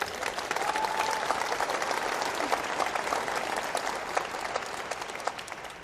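Steady, dense applause from a large audience, many hands clapping continuously at a fairly loud level throughout.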